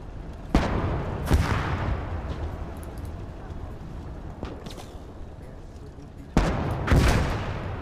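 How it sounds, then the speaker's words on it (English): Mortar rounds fire in the Gates of Hell World War II game, German campaign. Sharp booming shots land at intervals, with two early blasts and a closer pair near the end, over a continuous low rumble of battle. "Okay, mortar's actually firing now."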